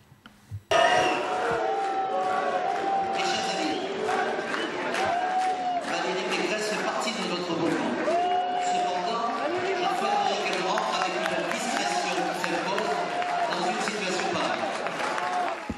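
Restless political rally crowd reacting with loud whistling, shouting and jeering as Valérie Pécresse arrives an hour late, sustained dense noise with scattered claps and voices throughout.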